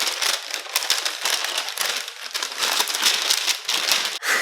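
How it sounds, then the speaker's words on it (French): Paper packaging crinkles and crumples close up as a book box is unwrapped, a continuous busy rustle with sharp tearing crackles and a brief pause near the end. "je vais déballer tout ça"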